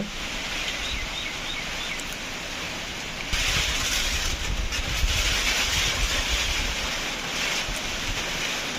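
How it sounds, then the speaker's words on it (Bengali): Strong storm wind from Cyclone Remal with light rain, a steady loud roar that swells into heavier gusts partway through, continuous and broadband with no voices. "হালকা বৃষ্টি হচ্ছে আর যে পরিমাণে ঝোড়ো হাওয়া বইছে বাইরে যাওয়া একদমই অসম্ভব"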